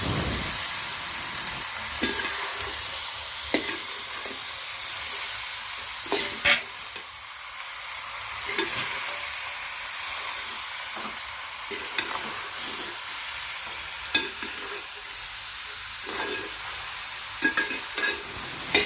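Duck pieces in masala are stirred in a pan, a continuous moderate sizzle broken by regular spoon scrapes and taps against the metal.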